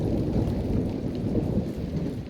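Constant rumbling thunder during a prolonged thunderstorm, loud and continuous low rolling with steady heavy rain hissing throughout, no pauses.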